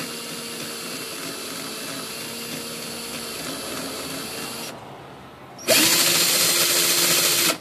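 Power drill whirring steadily as it spins a piece to dry alcohol ink, a constant motor whine that stops briefly and then returns louder and brighter for the last two seconds.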